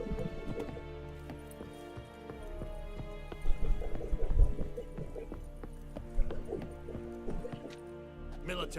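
Roach, Geralt's horse in The Witcher 3, gallops with steady clip-clop hoofbeats under a game music score, with a few heavier thuds midway.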